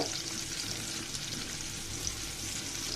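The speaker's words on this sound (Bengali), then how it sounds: "পেঁয়াজ কুচি একসাথে দিয়ে ভালো মতো হালকা করে ভেজে নিব" Chopped onions and garlic fry in oil for a pumpkin and red lentil curry, giving a soft, continuous sizzle with faint stirring underneath, fairly quiet and steady.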